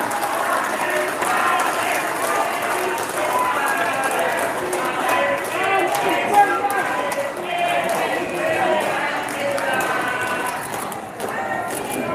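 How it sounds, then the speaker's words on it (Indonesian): A crowd at an HMI rally declaring support for Anies Baswedan and Cak Imin for the 2024 presidency claps in loud, dense, sustained applause that rolls evenly without a break. "Kita berikan tepuk tangan yang meriah."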